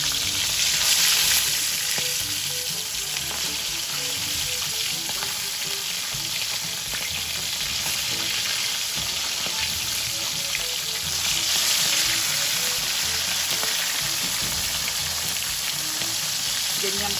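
Fish sizzles and crackles steadily in hot oil, a dense close frying hiss with small pops and occasional stirring, no voices.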